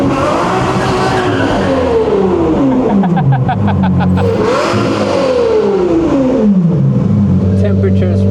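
Toyota MR-S mid-engine sports car revved hard in repeated rising and falling sweeps, loud and close, with a faint voice at the start.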